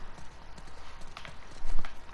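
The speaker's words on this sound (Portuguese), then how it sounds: "Vamos voltar para os cavalos." In the video game The Last of Us Part II, horse hooves clip-clop at a steady trot with rhythmic thuds, fairly close and loud over a low outdoor background.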